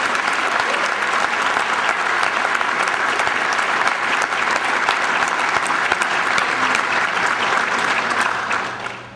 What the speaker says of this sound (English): Please join me in a round of applause for Captain Jimenez.